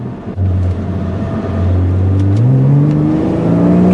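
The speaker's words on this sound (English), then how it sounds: "I can hear that the engine is revving harder" Porsche with a PDK gearbox in Sport Plus mode revving hard. The engine note climbs steadily in pitch as it accelerates, loud and close, with brief shifts and no talking.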